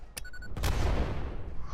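Gunfire in the video game Satisfactory: a quick burst of shots followed by a heavy, rumbling blast that dies away slowly, with no talking over it.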